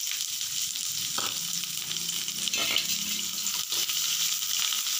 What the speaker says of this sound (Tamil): இப்போ வெங்காயம் நல்லா வதங்கிருச்சு.